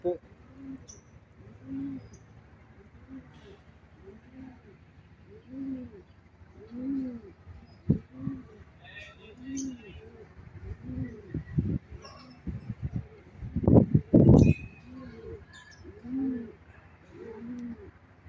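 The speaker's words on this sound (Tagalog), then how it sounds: "Ito na ang aking kalapate." Pet pigeons coo in soft, repeated rolling calls at a regular pace close by, with a brief burst of louder fluttering and scuffling near the end.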